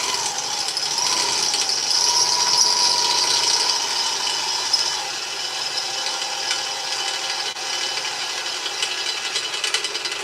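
A drill with a chisel-tipped bit bores steadily through metal armour, a continuous grinding, rasping whine with a faint steady tone that runs the whole time at fairly close range.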